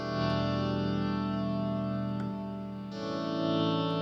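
Electric guitar played through a Fender Bassman-style black panel amp simulation with effects added, sustained chords ringing with chorus and distortion, shifting to a new chord near the end, clear and alone.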